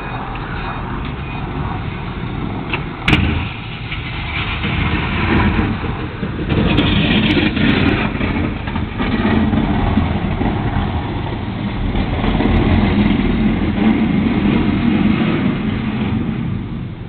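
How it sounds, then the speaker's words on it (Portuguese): A car engine runs steadily at a low rumbling idle throughout, close and fairly loud, with a brief click near the start and some shifting noise partway through. "olha o meu carro. Não sei nem como é que eu ligo esse troço."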